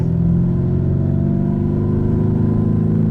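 A Lamborghini Urus engine revs with a deep, steady, throaty drone, loud and close, as if heard from inside the vehicle.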